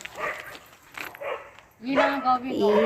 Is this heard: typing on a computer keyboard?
no